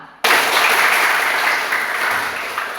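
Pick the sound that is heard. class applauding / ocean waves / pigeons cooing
class applauding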